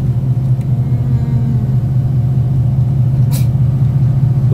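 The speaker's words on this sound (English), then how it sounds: "Who just sneezed?" A single short sneeze bursts out inside a moving car, cutting briefly through the steady low engine and road rumble.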